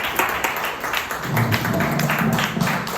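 Church congregation applauding, a steady wash of many hands clapping at moderate loudness, with a low murmur of voices rising beneath it partway through.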